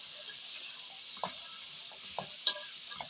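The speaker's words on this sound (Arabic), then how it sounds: "نقلب بقى كويس" Onions frying in a pot for kebab, a faint high hiss of sizzling broken by a few soft scrapes and knocks of a stirring spoon, quiet, no speech.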